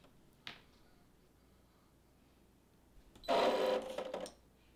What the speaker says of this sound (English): the carriage of the embroidery unit will move